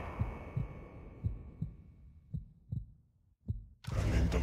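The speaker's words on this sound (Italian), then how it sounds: "Cuore che batte forte." Heavy heartbeat from the Alien vs Predator video game, a steady thumping double pulse that slows and fades under a low hum before a loud burst of game noise cuts in at the end.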